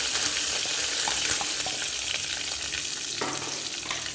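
Cinnamon, cloves, cardamom, fennel, dried red chillies, pepper and coriander seeds fry in a pan, a loud continuous crackling sizzle with scattered stirring clicks and one scrape near the end, with no talking.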